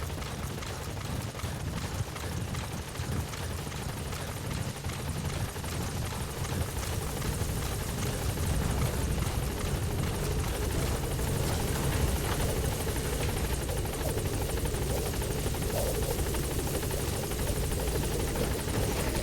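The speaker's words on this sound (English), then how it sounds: "Support helicopter has arrived." Support helicopter idling at a landing zone in Metal Gear Solid 5, a steady close rotor thump and turbine whine droning loudly and continuously with no break.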